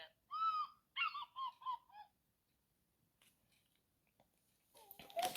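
A baby's toy plays a golden eagle call as a rapid series of five or six harsh, high, yelping cries over about two seconds. A short noisy sound and a voice follow faintly afterward.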